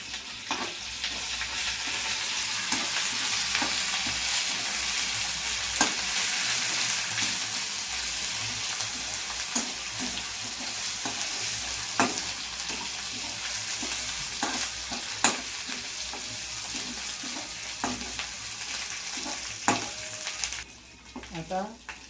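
A paste of garlic, ginger and onion fries in a kadhai with cumin and bay leaf, giving a steady close sizzle broken by repeated scrapes and clacks of a stirring spoon, with no talk.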